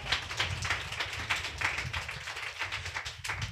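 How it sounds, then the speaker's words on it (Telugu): A congregation at a Good Friday church service claps loudly together, a dense, sustained patter of many hands close by. "గట్టిగా చప్పట్లు కొడతారా?"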